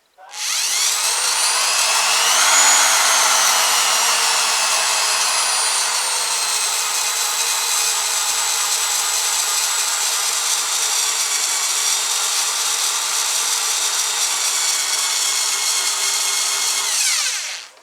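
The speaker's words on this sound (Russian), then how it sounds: "Сейчас я его строну на больших оборотах, а потом сбавлю обороты, а он будет крутиться все равно." A small electric motor from a homemade 5-watt wind generator setup spins at high revs, giving a loud continuous whine that starts abruptly, holds steady with a slight pitch sweep early on, and cuts off at the end.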